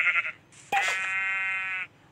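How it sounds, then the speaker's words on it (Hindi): A sheep in the Minecraft video game gives one clear, nasal bleat, preceded by a brief shorter bleat, close and alone. "sheep sheep sheep sheep"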